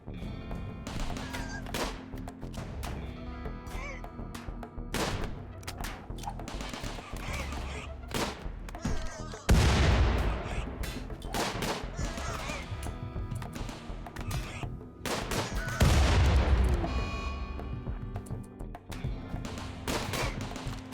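Grenade blasts and gunfire in a RimWorld colony battle, with several heavy bursts breaking through a busy, continuous stream of combat noise and crackling shots.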